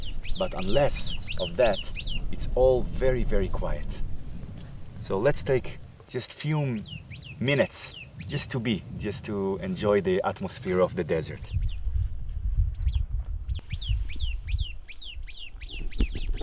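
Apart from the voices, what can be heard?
birds singing under a tree in the Negev desert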